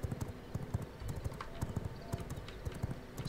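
Horse hooves clip-clop steadily in the video game V Rising, a brisk, even gallop-like rhythm of hoof strikes at moderate volume with no one talking over it.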